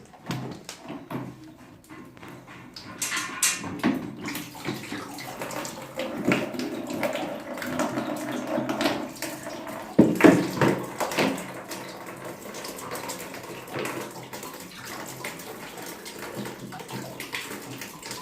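Dirty water drains from a towel radiator's loosened fitting into a bucket during a radiator flush, a steady running splash with clunks and bumps throughout.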